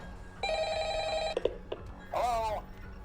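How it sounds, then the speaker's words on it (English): An old office telephone in the Dead by Daylight horror game, a Five Nights at Freddy's nod, gives a sustained electronic ring, then a clunk as it is picked up, followed by a brief wavering tone at moderate volume. "Up next, the office phone."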